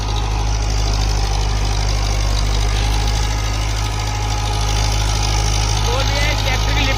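A 60 HP tractor engine working a rotavator (rotary tiller) in a farm field, giving a loud, steady, unbroken drone with a heavy low hum that continues throughout.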